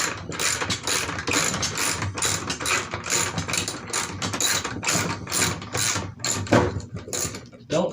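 A ratchet wrench clicks rapidly and repeatedly while the last bolt is backed out, freeing an MTD mower motor from its deck, a close, steady rhythm of sharp metallic ticks with a voice faint underneath.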